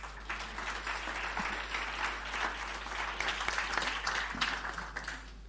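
Sustained applause from a conference audience at an e-mobility expo as a board chair is welcomed, a steady dense patter of many hands continuing throughout at moderate level.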